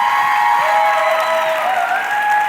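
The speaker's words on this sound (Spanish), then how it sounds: "Ese hombre viene de Panamá y ese es el aplauso que ustedes le van a dar." A crowd applauds and cheers a guest from Panama at a podcasting talk, a loud, continuous wash of clapping and crowd noise with whistling or cheering tones on top.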